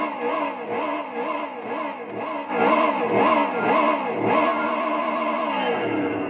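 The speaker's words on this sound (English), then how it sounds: "can the Mercedes-Benz A160 finally make it to 120?" A Mercedes-Benz A160 in Gran Turismo 4 accelerates hard, its engine whine climbing and dropping in repeated gear-change sweeps, loud and continuous, with no speech.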